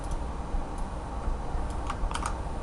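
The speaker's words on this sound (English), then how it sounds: "I'm going to type in" Quick, close clicking of fingers typing on a computer keyboard, a brief run of light keystrokes with no speech.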